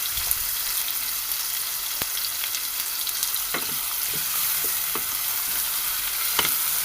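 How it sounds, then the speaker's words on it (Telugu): Chopped onions fry in hot oil for a tomato curry, giving a constant dense sizzle from close by, broken by a few soft clicks as they are stirred. "ఆయిల్ హీట్ అయినాక మనం ఆనియన్ వేసుకుందామండి. ఆనియన్ వేసినాక ఒకసారి కలుపుకుందాం."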